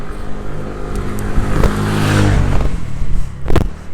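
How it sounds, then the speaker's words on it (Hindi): A motorbike passes by on a road, its engine swelling loud and close, then fading away amid rushing noise. "बाइक गुजरने का वेट कर रहा था थोड़ा"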